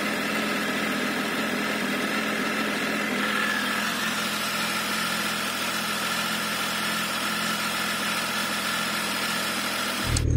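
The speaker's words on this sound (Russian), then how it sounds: "он как раз троит, потому что три цилиндра в ряд" A Triumph 955 three-cylinder motorcycle engine idles nearby with a steady, even, droning rumble that holds unchanged for about ten seconds before cutting off abruptly.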